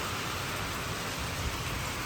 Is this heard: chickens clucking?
no